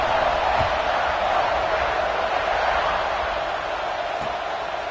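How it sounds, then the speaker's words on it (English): A football stadium crowd in a college football video game keeps up a steady, dense roar throughout, broad and even, with no clear voices standing out. "this crowd is buzzing after that last score"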